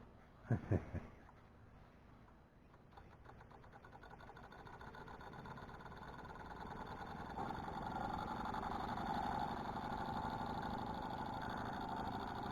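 A small homemade engine runs quietly, starting with a couple of sharp clicks before settling into a faint, steady mechanical whir that grows slightly louder and holds.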